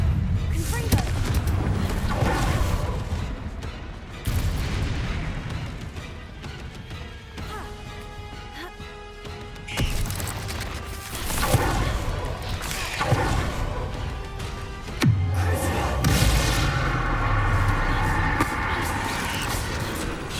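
Confringo blasting spells in Hogwarts Legacy fired at an acromantula burst in a series of loud booming crashes, spaced several seconds apart over ongoing combat sounds.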